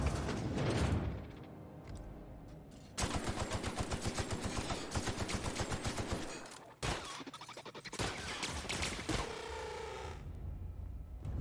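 Sustained automatic gunfire in The Outer Worlds, a dense rapid rattle of shots running for several seconds with brief breaks between bursts, loud and close, with mechanical clatter and no voices.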